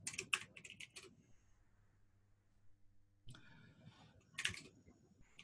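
A password is typed on a computer keyboard in two quick bursts of close, crisp key clicks separated by a quiet pause, with no speech over them.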